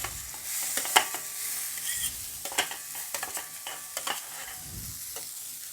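Karkol seeds tipped into hot oil in a home kitchen pan, with intermittent stirring clatter and a steady soft sizzle, a few sharper scrapes standing out, no voices.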